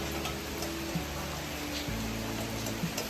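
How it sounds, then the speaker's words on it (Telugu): Rain falling outdoors, a steady, even hiss of drops with faint scattered ticks, moderately quiet and unbroken, with no one talking. "ఇక్కడ చూడండి వర్షం ఎలా పడుతుంది చూపిస్తాను"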